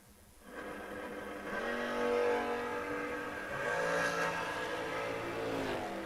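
Drag racing cars, a Chevy II and a dragster, rumble in from quiet and swell into a sustained roar of engines that holds at a moderate distance through the rest of the clip.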